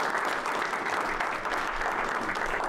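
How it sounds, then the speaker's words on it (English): Kiwanis club members applauding the caterers after a meal, a steady, full round of clapping from a room of people that stays even and loud for its whole length. "I would like a round of applause for Lori and Todd Catmull."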